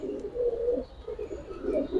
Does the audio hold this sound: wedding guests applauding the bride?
no